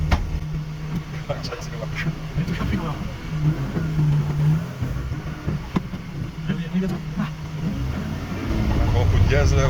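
A car engine hums steadily up close and swells louder toward the end as it is revved, with indistinct voices mixed in.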